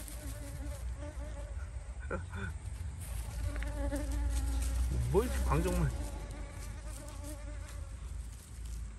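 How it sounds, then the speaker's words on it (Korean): Several bees buzz close around a hand outdoors, a steady insect drone with louder passes near the middle, while people talk over it. "아, 벌들이 너무 많아."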